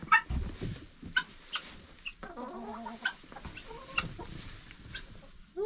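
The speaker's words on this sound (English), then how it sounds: "I'll check on the chickens" Chickens in a winter coop cluck and chatter close by, with scattered short calls and a brief rising squawk, alone without speech.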